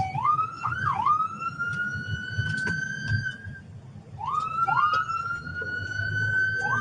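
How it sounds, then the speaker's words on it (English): A police car siren wails nearby on a street, rising and sweeping in two long tonal cycles over steady low road and engine rumble, with no talking. "as you can see right now, his siren's been on"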